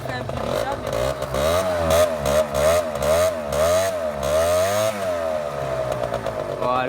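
A small Peugeot Zip scooter engine revs up and down repeatedly, close and loud, with a buzzy rasp rising and falling before settling to idle.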